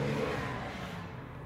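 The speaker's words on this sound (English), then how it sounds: "I don't know if you heard that, car just flew by." A car speeding past on a road, a faint, steady engine whoosh that fades slightly as it passes, heard alone at a distance.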